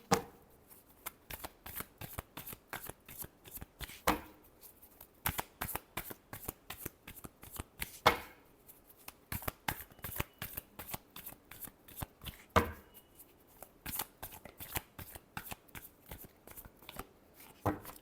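A deck of tarot cards is shuffled repeatedly by hand, with rapid riffling bursts and short pauses, close and crisp with no talking.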